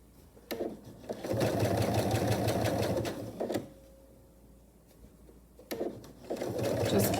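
A sewing machine stitches a vinyl pouch seam in several close, loud bursts of rapid steady needle hammering, broken by brief pauses and a quieter stretch in the middle.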